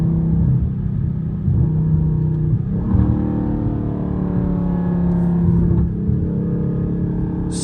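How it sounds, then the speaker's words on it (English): Loud, droning exhaust rumble of a Scat Pack car heard from inside the cabin on country roads, engine revving up and settling in steady waves. "Does my car sound loud on the inside to y'all?"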